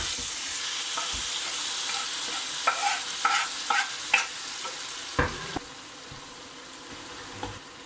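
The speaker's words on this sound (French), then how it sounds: "Alors l'huile est chaude, je viens y verser mes légumes" Diced peppers, eggplant and tomatoes fry in hot oil with a constant close sizzle, broken by a few spoon scrapes and clatters as the vegetables are stirred.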